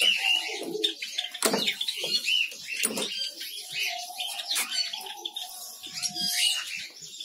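Many small birds at a Bangladeshi bird farm colony chirp and tweet continuously, with pigeon-like coos and brief wing flaps mixed in, close and busy throughout.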